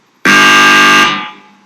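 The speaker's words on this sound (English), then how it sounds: "Here's the sound of the doorbell amplified through an amp." Amplified doorbell in a Brixton flat turned gallery, part of a Martin Creed artwork: one loud, harsh, buzzing electric ring held for about a second, then fading into room decay.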